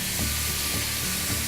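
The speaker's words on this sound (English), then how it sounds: "Hear that sizzle?" Onions sizzle in a pan just after a few drops of water are added for a peanut cauliflower curry, a steady close hiss of frying.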